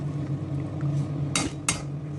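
Goulash sauce stirred in a pot, two short scraping clinks of a spoon against the pot over a steady low simmer hum, close and clear with no talk.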